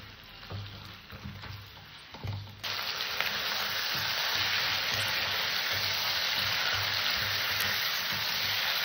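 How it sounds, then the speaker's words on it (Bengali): Chicken pieces sizzle steadily in a hot pan while being lightly browned for a curry made without onion or garlic. A few soft clatters come first, then a loud, continuous frying hiss sets in and holds to the end. "মাংসটাকে আমি 2-4 মিনিট এইভাবে হালকা করে কষে নেব।"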